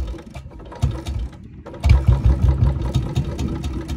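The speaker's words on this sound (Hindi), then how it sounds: "देखते हैं इसे स्टार्ट करके कितने किक में स्टार्ट होगी" A Royal Enfield Bullet Electra 350 single-cylinder engine is kicked and catches, coughing into a loud, lumpy, thumping idle close by, with a brief lull before it fires up strongly.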